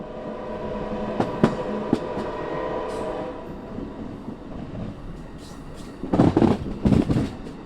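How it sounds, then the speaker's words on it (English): A southbound Amtrak Mardi Gras Service passenger train from Mobile rumbles steadily along the tracks on its inaugural run, with sharp clanks early on and a burst of louder rattling and clacking near the end. "So this summer I rode the new Amtrak train from Mobile"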